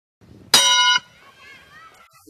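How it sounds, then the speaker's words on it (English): A bell is struck once as a cue in a live theatre workshop, giving a bright, loud ring that cuts off after about half a second, followed by faint voices in the room. "We just know I use the bell, there's a bell, and you move."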